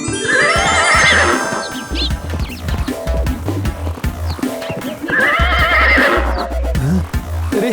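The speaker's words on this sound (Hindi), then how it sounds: "आजा जादुई घोड़ा, सामने आकर हो खड़ा।" A magic horse neighs loudly twice, long whinnies over steady clip-clopping hooves and a jingling backdrop, close and prominent.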